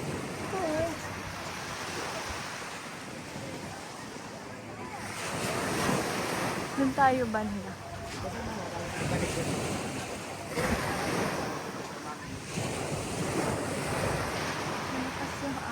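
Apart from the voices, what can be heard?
strong ocean waves crashing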